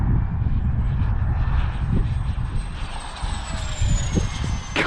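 A 3D printed EDF model jet streaks past, its ducted fan giving a steady, loud, high-pitched whine that holds through the pass over broad airy rush, with no talk.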